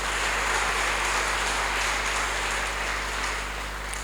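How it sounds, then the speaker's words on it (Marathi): Audience applause at a Marathi book launch, honoring the author, teacher and publisher: a steady, dense wash of many hands clapping across a hall, holding level then easing slightly toward the end. "मला वाटतं आपल्या सर्वांच्या वतीने या तिघांसाठी टाळ्या होऊ देत"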